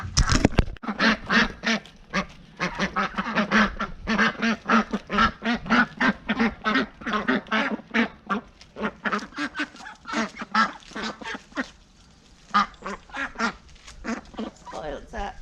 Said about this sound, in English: Spoiled ducks, you are.